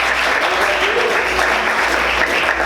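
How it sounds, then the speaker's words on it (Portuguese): A church congregation applauds loudly, with dense, steady clapping that fills the space throughout. "Aplauda Jesus bem forte"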